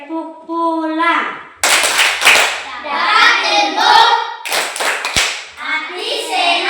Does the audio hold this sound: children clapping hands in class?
yes